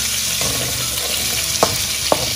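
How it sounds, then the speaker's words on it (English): Pork pieces browning in a frying pan for Indonesian fried rice give a steady, fairly loud sizzle throughout, broken by two short scraping knocks of a utensil near the end; no one speaks. "I like to cook my protein first and give it a little browning."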